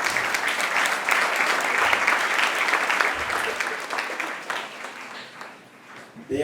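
Students applaud incoming prefects at a school handover ceremony, a sustained round of clapping that fades gradually toward the end.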